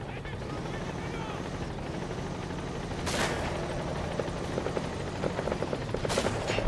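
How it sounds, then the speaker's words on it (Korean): A helicopter in the video game Metal Gear Solid V: The Phantom Pain makes a steady, loud rotor drone under the gameplay, with sharp bursts like gunfire at two points and a faint voice now and then. "헬기 소리 들리죠?"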